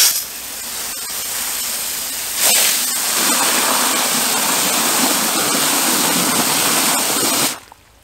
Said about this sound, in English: Put some water in the hole, soften up the dirt.